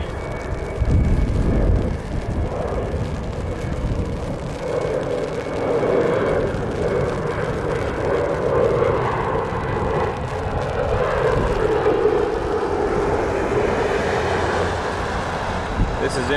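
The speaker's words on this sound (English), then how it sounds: "next up, Embraer 170." An Embraer 170 airliner at Toronto Pearson airport, a steady broad engine roar that stays at a fairly even level under intermittent talk.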